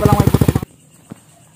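A modified 150 cc carbureted motorcycle engine revs in a rapid burst of sharp, popping backfire pulses, then cuts out, followed by one faint pop in the quiet.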